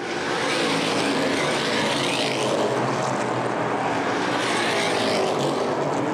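Street stock race cars roar along the front straightaway at Winchester Speedway in a dense, continuous engine drone that stays loud and steady throughout, with no voices.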